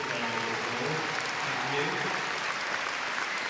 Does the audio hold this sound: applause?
yes